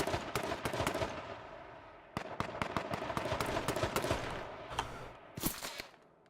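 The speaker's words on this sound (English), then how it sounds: "I hear shots, however, I don't see where they're coming from" Gunshots in a battle royale match of H1Z1, rapid sharp cracks in clustered bursts with a few louder single reports, fairly close over a noisy background, no talk.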